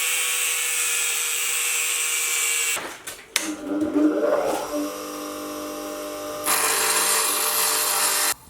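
A high-pitched power tool whines steadily cutting the flutes off a drill bit, stops for a few seconds of clattering handling noise, then starts grinding again.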